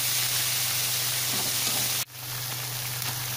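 Grated carrots stirred into thickened milk in a pan over a low flame for gajar ka halwa, heard as a steady close sizzle and bubbling hiss with a brief dip partway through.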